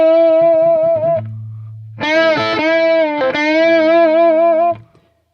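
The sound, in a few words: distorted electric guitar string bend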